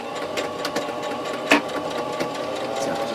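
A sewing machine runs steadily, stitching batting for a quilted microwave protector, with a fast mechanical whir and a regular needle knock and one louder clunk partway through, close up and alone.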